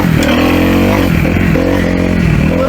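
A 250F dirt bike ridden along a trail, its engine loud and close, revving up and down with shifting pitch and rattling clatter throughout.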